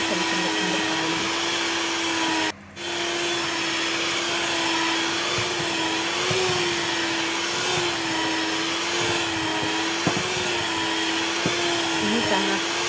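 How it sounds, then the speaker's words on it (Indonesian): An electric mixer kneads soft tangzhong bread dough in a bowl with a steady motor whine and a brief dip near the start, while the bowl knocks and rattles as it slides on a slick surface. "kita tetap terus aduk terus sampai benar-benar tercampur dan benar-benar kalis"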